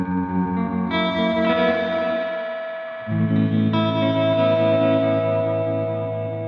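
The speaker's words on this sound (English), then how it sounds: "What about a reversed room?" An electric guitar through a reversed room reverb in Guitar Rig 7 plays two sustained, distorted chords, each swelling in with a backward-building wash and a dense chorus-like shimmer.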